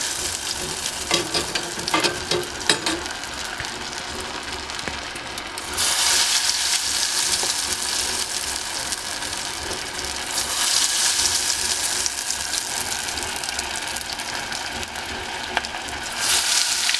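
Beer-battered fries deep frying in hot oil, a steady crackling sizzle that swells louder in bursts and holds close and continuous throughout, with no voices.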